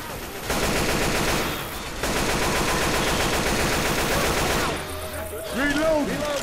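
Rapid automatic gunfire in the zombie shooter Left 4 Dead 2, dense sustained bursts with brief pauses, under faint voices and game sounds.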